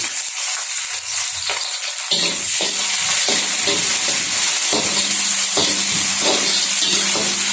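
Onions and ginger garlic paste sauté in a hot pan for pumpkin perattal, a loud steady sizzle broken by repeated stirring scrapes.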